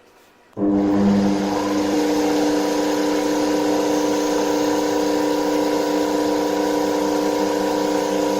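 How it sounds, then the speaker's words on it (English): Small DC motor switching on after a moment of quiet and then running with a steady, continuous hum and whir, close by and even in level throughout, no talking. "the motor is turned on"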